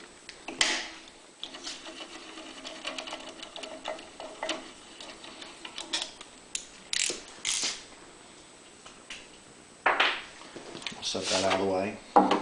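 Metallic ratcheting clicks in short bursts as a ratchet loosens the ignition coil bolts on a Honda EV6010 generator, close by, with pauses and small tool clatter between strokes.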